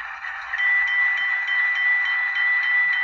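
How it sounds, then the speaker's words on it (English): A model diesel locomotive's sound system rings its bell, a steady bright metallic tone with faint rhythmic pulsing, sustained and unaccompanied at a moderate level. "Here is the bell."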